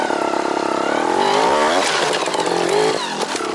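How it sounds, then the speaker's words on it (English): Trials motorcycle engine blipping the throttle while riding, a loud continuous rasp with rising and falling pitch sweeps as the revs surge and drop, close up, with no talking. "The goal is to drive with the double blip, not the jab zap."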